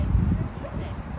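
A small dog in the small-dog section of a city riverside dog park yips, whimpers and barks briefly, close by, with people talking over the busy outdoor background.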